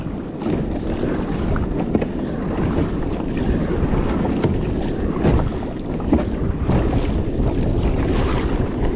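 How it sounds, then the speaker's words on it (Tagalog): Strong wind roars and buffets the microphone continuously at sea while paddling a small boat, with waves churning and sloshing close by; no voices. "Malakas ang hangin, malakas ang alon, maraming seaweeds."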